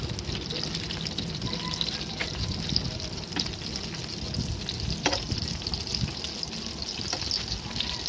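Food frying steadily in a pan and being turned over, a continuous loud sizzle and bubbling with occasional soft clinks and scrapes of the utensil.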